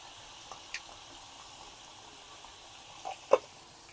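Potato fries crackle softly in hot oil during their second frying, a quiet steady sizzle with a few small pops and bubbles near the end, no voices.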